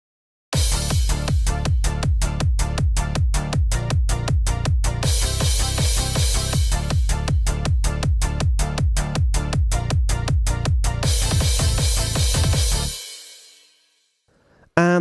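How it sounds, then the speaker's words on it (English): Eurobeat track with an offbeat synth layered over its driving rhythm, a loud, dense electronic groove of steady repeated stabs and pounding beat running continuously before cutting off abruptly near the end. "let's listen what the offbeat synth adds to the rhythmic pattern of the song."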